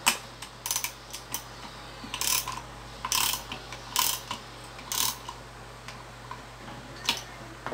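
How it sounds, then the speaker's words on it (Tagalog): A ratchet clicks in short, uneven bursts while screws are tightened on a pocket bike CVT, the sharp ticking pawl sounds close and fairly quiet with brief pauses between strokes. "Tornilyo, tornilyo, hihigpitan."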